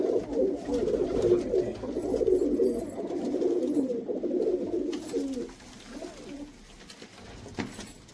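Pigeons cooing close by in a home loft, a steady run of soft low throaty coos that thins out toward the end, with no talk.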